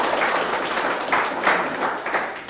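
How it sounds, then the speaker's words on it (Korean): Short burst of audience applause at a rural political campaign event about farming pledges, moderately loud clapping from a gathered crowd that swells and fades over a few seconds. "정진석 국회의원님을 비롯한 이 모든 분들께 수고하셨던 박수 한번 보내주시기 바랍니다"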